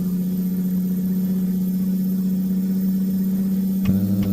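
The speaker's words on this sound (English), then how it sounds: "This engine in this cat engine we've got, holy smokes, does she ever purr." A steady, low diesel idling hum from a Caterpillar engine in a Peterbilt 378 truck in American Truck Simulator drones evenly throughout, with a brief change in tone near the end.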